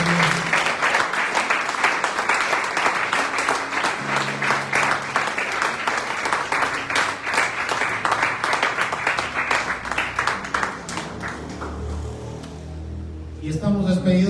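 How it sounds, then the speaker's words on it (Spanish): Church congregation at a Thursday service applauds in a long stretch of steady, lively clapping filling the room, with voices mixed in, before the clapping fades and speech takes over near the end. "Denle un aplauso al Señor."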